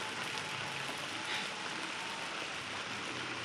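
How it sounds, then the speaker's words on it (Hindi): Heavy rain pours down in a dense, steady hiss close by, with no other sounds breaking through. "तो अभी ये बारिश फिर स्टार्ट हो गई है और बहुत तेज़ हो रही है"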